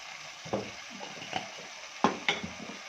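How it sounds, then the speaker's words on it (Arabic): Chicken being stirred with cumin and a little sugar in a cooking pot, a soft continuous sizzle with a few louder scraping clinks of the spoon against the metal. "ونقلب ده كله مع بعضه."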